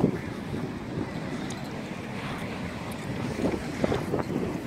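Storm surge on the North Sea coast at Tossens brings a steady roar of strong wind and heavy surf, with gusty buffeting against the microphone throughout.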